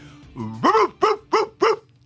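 A man imitates a dog's bark with his voice, starting with a low growl-like rise and then giving four short, sharp, evenly spaced barks, close and loud.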